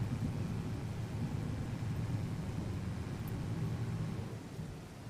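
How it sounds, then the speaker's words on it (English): Rain and thunder effects in a farming video game: a steady hiss of rainfall over a heavy low rumble, continuous and fairly even, easing slightly near the end, with nobody speaking. "the rain's really good. They did a great job with, like, the sound effects and stuff in the game"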